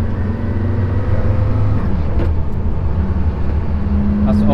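Porsche Carrera GT cruising through a village, a steady low engine drone with road rumble heard from inside the cabin, continuous and fairly loud throughout.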